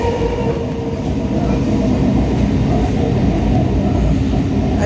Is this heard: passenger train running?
yes